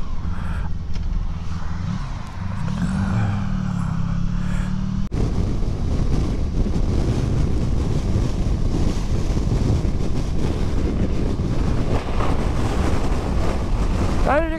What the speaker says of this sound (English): the wind has really picked up now!